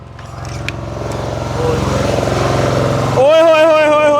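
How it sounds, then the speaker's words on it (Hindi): Steady engine drone of a generator running outdoors, a constant low rumble that gradually grows louder, then a shift near the end as a higher wavering tone and voices come in over it. "बाहर ना बहुत वो जनरेटर की आवाज़ आ रही है."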